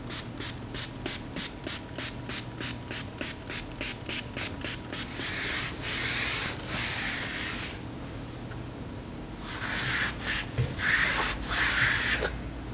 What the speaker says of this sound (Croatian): Za čišćenje i dezinfikovanje klima uređaja koristit ćemo Asepsol u spreju